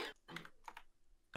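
Quick bursts of keystrokes on a computer keyboard while someone plays a word-typing game, a few clustered clicks separated by short pauses, fairly close and moderately loud.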